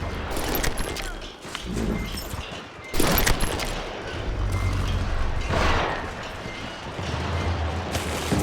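Deputies unload rapid gunfire in Call of Juarez Gunslinger, with overlapping volleys and sharp shot bursts, the loudest near the three-second mark, against a constant din of game noise and shouting voices.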